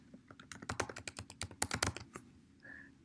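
Rapid typing on a computer keyboard, a quick run of clustered key clicks close by that trails off into a brief pause.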